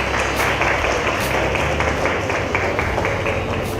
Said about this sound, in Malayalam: നല്ല കൈയടി കൊടുക്കാം.